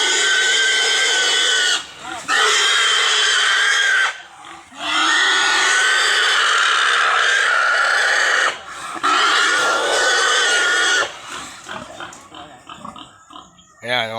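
A sow squeals and grunts loudly in repeated long bursts while being loaded onto a vehicle, with short quiet gaps between cries and lower grunts near the end.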